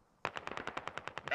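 An MG3 machine gun in a military video game fires a rapid, evenly spaced burst of about a dozen sharp shots, sudden and close after a moment of quiet.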